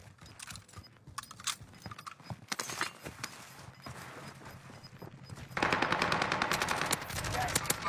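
Rapid bursts of automatic gunfire from a battle-royale style video game, dense and loud, with stuttering volleys that intensify and become continuous near the end.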